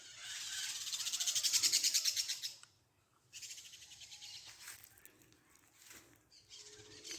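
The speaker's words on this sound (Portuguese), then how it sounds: "Olha as festas dos periquitos." Maritacas, a type of parakeet, chatter in trees on a rural farm, a dense burst of shrill, overlapping squawks rising loud, breaking off briefly, then resuming in scattered calls.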